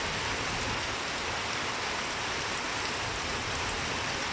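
Steady, dense first-of-season rain in Surat Thani, Thailand, pours down with a constant close hiss, unbroken and even throughout, with no voices.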